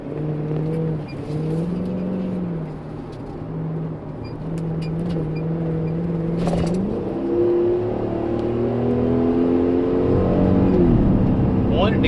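Car engine pulling hard around a racetrack corner, a loud, steady, droning note whose pitch rises and falls with the throttle, heard from inside the car with a driver talking over it.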